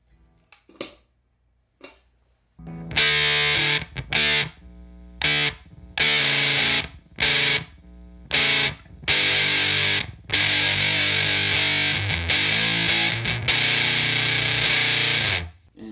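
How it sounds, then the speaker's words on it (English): An electric guitar plays through a Big Muff fuzz pedal, thick saturated chords in choppy stabs with short silent gaps between them, then longer sustained passages, loud and alone. "We'll start off with the Big Muff with this setting."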